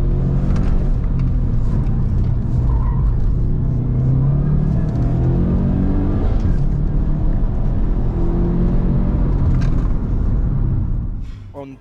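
A race car on a slalom practice run at the Bas Monsieur Slalom 2023, its engine giving a loud, steady close roar and rumble that holds for the whole stretch before easing off at the very end.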